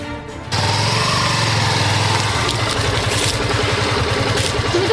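A motorbike engine starts after a brief pause and then runs steadily, loud and close, with a continuous rough rumble.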